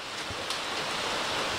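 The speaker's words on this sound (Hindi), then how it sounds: "देख पा रहे हैं बारिश का रुकने का नाम ले रही है फिर भी निकल पड़े हैं रास्ते में" Rain falls steadily on the Tarakote route of the Vaishno Devi mountain pilgrimage path, making an even, close hiss throughout with no voices.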